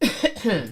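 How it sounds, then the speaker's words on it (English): A man coughs a few times in quick rough bursts close to the microphone, with a single spoken word slipped in between. "I got a cough."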